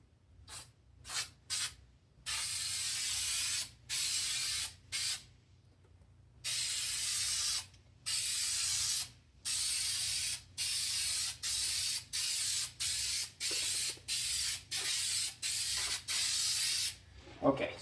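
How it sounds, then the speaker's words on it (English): A spray can spraying paint onto the backing of a model railroad photo backdrop, with about a dozen sharp hissing bursts of one to two seconds each, some very short, separated by silent gaps, close and loud. "I usually like to just kind of spray the backing itself rather than the backdrop."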